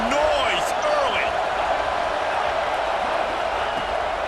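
A stadium crowd in EA Sports College Football 26 roars with a constant loud wash of cheering and noise, with a game commentator speaking over it.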